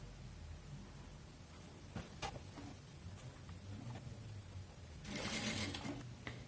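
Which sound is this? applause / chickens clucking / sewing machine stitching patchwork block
sewing machine stitching patchwork block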